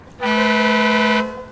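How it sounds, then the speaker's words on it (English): A foghorn sounded aboard a sailing catamaran off the Amalfi coast: one loud, steady, reedy blast lasting about a second, starting and stopping cleanly, with no other sound around it. "Sergio, ring the foghorn."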